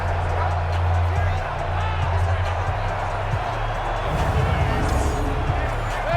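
Dense crowd roar fills an indoor domed stadium in an American football video game, a steady wash of babble and cheering beneath continuous commentary.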